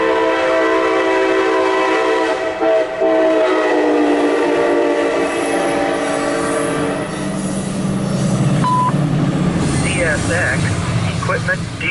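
CSX Q371-18 mixed freight train rolls past close by with a long, loud horn blast over the rumble of the locomotive and cars, while a voice talks beneath the noise.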